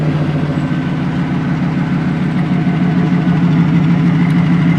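An LS1 V8 engine in a 1936 Ford Slant Back resto-mod with headers and Flowmaster exhaust idles steadily nearby, a deep, loud, even rumble that holds without change throughout.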